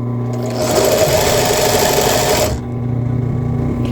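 Sewing machine stitching elastic onto a bra cup, a loud close rapid mechanical whir in one continuous run that drops to a quieter hum as the stitching stops.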